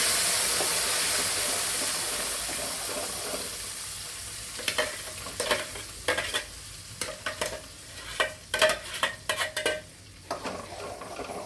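Ground chutney poured into a hot curry-leaf tempering, first a fading steady hiss of oil, then a burst of spluttering sizzle with repeated spoon scrapes and clinks against the pan as it is stirred.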